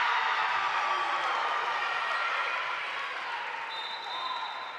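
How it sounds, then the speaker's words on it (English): Crowd at a high school volleyball match between Chaska and Benilde-St. Margaret's, a loud, steady roar of cheering voices that slowly tapers, with a brief thin whistle-like tone near the end. "I'm just gonna let the crowd noise illustrate that shot."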